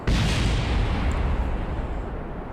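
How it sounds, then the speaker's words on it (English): A sustained, heavy rumbling blast with crackling debris, loud and continuous for a couple of seconds, like a big in-game explosion in Kerbal Space Program. "We've got one or two explosions here"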